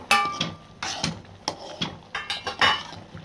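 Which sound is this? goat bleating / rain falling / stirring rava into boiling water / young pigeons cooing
stirring rava into boiling water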